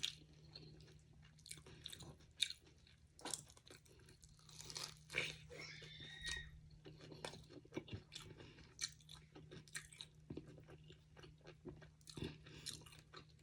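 Quiet, close bites and chewing of an Ilocos empanada, an irregular series of soft crunches and wet smacks with a low steady hum beneath, no talking.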